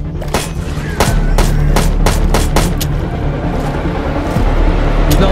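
Gunfire in a parasite-themed Minecraft game: a rapid series of loud, sharp shots in bursts over a constant low rumble, close and dominant, with no talk.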